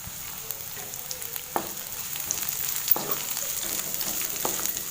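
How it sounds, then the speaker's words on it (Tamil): Two chopped onions sauté in oil in a pan with a steady, moderate sizzle and a few soft stirring scrapes and taps, no talking. "வெங்காயம் நல்லா பொன்னிறமாக வதங்கட்டும்."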